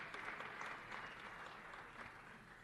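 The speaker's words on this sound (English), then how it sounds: "let's give her a round of applause" An audience at a Boston City Council meeting applauds Andrea Campbell, the council president, with continuous clapping from a crowd in a large room, very faint and distant-sounding but steady.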